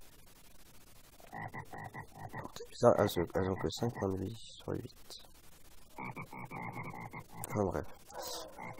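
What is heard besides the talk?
bullfrog croaking in video game Minecraft, Lots o'Mobs mod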